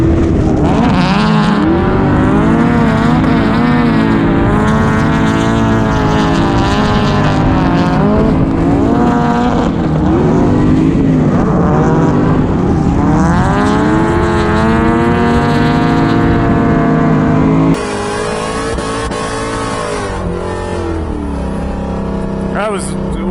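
Drift cars race at high speed, some of them jumping. Their engines rev continuously and loudly, rising and falling in pitch for more than twenty seconds, with a harsher engine tone near the end.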